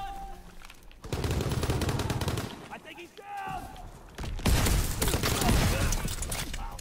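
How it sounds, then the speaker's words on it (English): Shotgun fire in Call of Duty WW2, heavy close blasts in bursts against game noise and effects, with a pause between volleys. "Look how dope the shotgun is."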